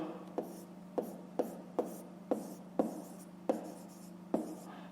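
Pen writing by hand on paper while noting a math inequality for a fifth-grade exercise, a run of sharp, regular scratchy strokes about every half second, close up and alone over a faint steady hum.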